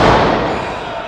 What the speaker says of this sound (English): 20 head slams into the turnbuckles.